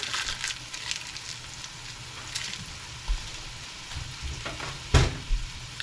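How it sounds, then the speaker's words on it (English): Tomato sauce mixture sizzles and fries in a pan while being stirred steadily, with scraping clicks and a few louder utensil knocks against the pan near the end. "you always want to be consistently stirring your mixture"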